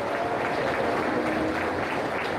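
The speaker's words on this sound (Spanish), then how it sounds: "Aplauso para el Señor Jesús." A Pentecostal church congregation in Junín, Huancayo claps in praise, a brief, steady patter of applause heard at moderate volume from within the room.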